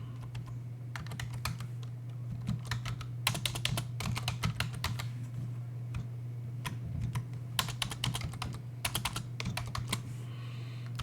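Computer keyboard typing in bursts of rapid clicks with short pauses, entering text during a Linux lab exercise, close and clear over a steady low hum.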